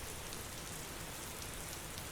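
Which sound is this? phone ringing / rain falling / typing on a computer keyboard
rain falling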